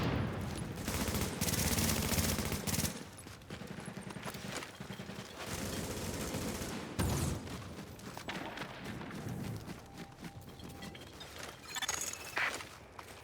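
A helicopter-mounted gun in a video game fires repeated rapid bursts. The loud, dense rattling is broken by short pauses, with further volleys near the end.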